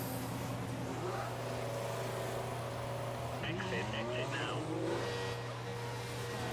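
A Formula 1 race car in the F1 2014 video game drones steadily at constant volume as it pulls into the pits, with a shifting engine tone near the end.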